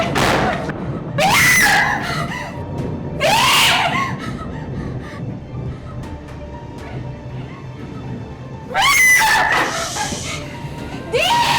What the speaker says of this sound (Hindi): चिल्ला रही हो?